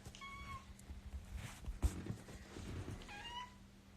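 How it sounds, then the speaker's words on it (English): Two pet cats, one orange and one black, near a Christmas tree indoors: two clear meows, one at the start and one near the end, with quiet room noise and a soft thump between them. "there's a cat."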